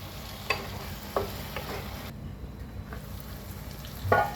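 Masala okra (bhindi) cooks in a pan, dhaba style, with a low steady sizzle broken by a few scraping stirs against the pan, close and fairly quiet, with no voices.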